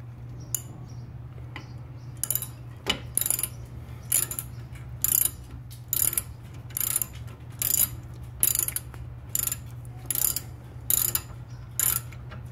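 A ratchet wrench turning brake caliper bolts on a KIA Cerato during a brake pad change: a regular series of quick clicking ratchet strokes, close and crisp over a low steady hum, with no voices.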